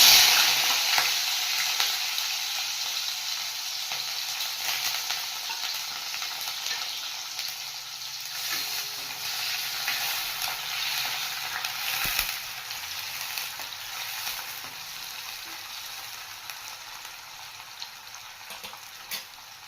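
Onions frying in oil with mustard seeds and cumin while dal and rice idli are cooked, a continuous close hiss and sizzle with stirring scrapes, loudest at the start and settling to a steady crackle.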